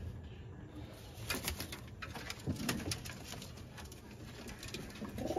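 A male running pigeon with tracked legs coos faintly amid quiet background noise, with a few brief patters and rustles nearby.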